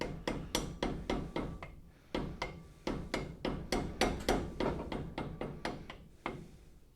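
Screwdriver used as a wedge and struck to tap a part loose in a garage, a quick series of sharp, close metallic knocks in short bursts, each fading before the next, with brief pauses between groups.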